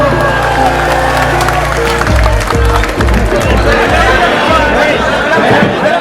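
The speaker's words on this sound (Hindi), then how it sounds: "जोरदार तालियां दोस्तों" Loud applause and cheering from a large crowd at an outdoor victory celebration rally in a market area, dense clapping and chatter under a low rumble, with voices mixed into the crowd noise.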